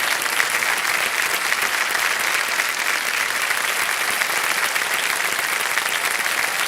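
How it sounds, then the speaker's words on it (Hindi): Studio audience applauding a contestant on a Hindi TV quiz show, Kaun Banega Crorepati: dense, steady clapping from a large crowd, loud and sustained throughout with no break. "ताली बज जाए इनके लिए"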